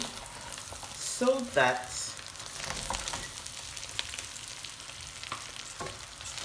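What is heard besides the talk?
stirring oil rice with salted beef in a pot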